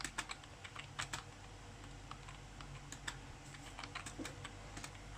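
Keys on a computer keyboard clatter during a computer game, a faint, quick run of uneven clicks and taps with short pauses, close by and with no talking.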